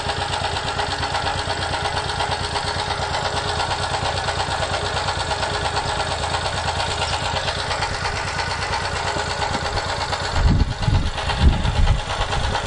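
A generator engine runs at a steady, fast-pulsing idle for most of the time, then briefly surges and stumbles with louder low thumps near the end.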